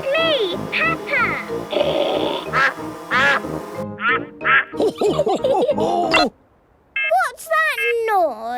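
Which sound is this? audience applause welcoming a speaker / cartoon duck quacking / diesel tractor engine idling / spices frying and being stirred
cartoon duck quacking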